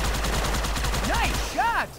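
Rapid gunfire from a Halo 2 game firefight, a fast string of sharp reports. Voices cut in briefly near the end.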